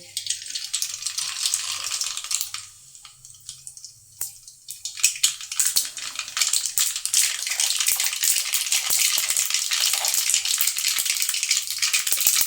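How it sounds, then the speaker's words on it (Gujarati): Mustard seeds crackle and pop in hot oil, a dense spitting sizzle that thins briefly, then builds into steady, loud spluttering. "હવે આપણે તેમાં 1 ચમચી રાઈ નાખીશું।"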